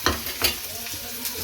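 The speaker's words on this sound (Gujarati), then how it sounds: "ડુંગળી થોડી કડકરી જાય" Chopped onions frying in hot oil for a vegetable curry, with a close steady sizzle punctuated by a few sharp stirring scrapes. No voices.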